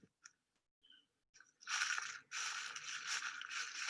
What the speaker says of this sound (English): I am a loud walker, so the leaves are definitely very crunchy.